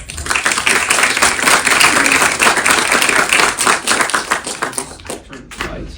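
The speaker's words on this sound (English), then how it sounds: "please give a round of applause to our..." A lecture audience gives a round of applause after an introduction, with busy overlapping claps and thumps that hold strong before thinning out toward the end.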